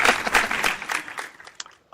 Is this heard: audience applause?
yes